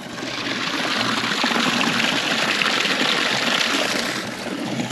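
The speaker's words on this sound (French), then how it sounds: "qui nous procurent de l'eau de source bien fraîche directement en bassin" Fresh spring water pouring steadily into a stone basin among forest ruins, a continuous close splashing gush that holds even and loud throughout.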